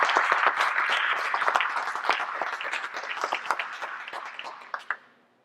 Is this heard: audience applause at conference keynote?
yes